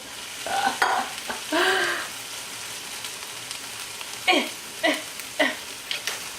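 Food stirred in a hot pan, a few scraping strokes in irregular bursts over a soft steady sizzle, close by.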